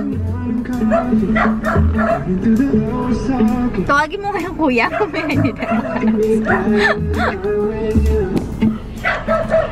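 A dog barks and yips repeatedly outdoors while people talk and laugh over it, the barking close and mixed into continuous chatter.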